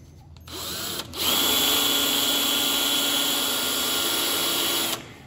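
A power drill fitted with a cutter trims the shock towers of a 1963 Ford Falcon, spinning up after a brief start and running in one loud, steady whine for about four seconds before stopping.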